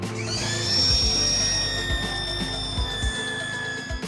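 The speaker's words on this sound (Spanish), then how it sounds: "Con el taladro y una mecha de acero vamos a sacar todos los remaches de estas sujeciones." Power drill with a steel bit boring out rivets from the floor-panel brackets of a motorhome chassis, a high whining spin that rises, then holds with rattling, grinding bites into the metal, close up with no talk.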